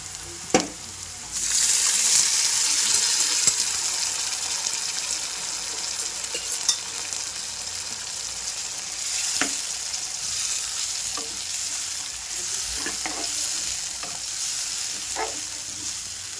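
Pre-boiled mutton for a fenugreek-leaf fry hits a hot pan and bursts into a loud, bright sizzle, which settles into continuous frying broken by scattered clinks and scrapes of stirring.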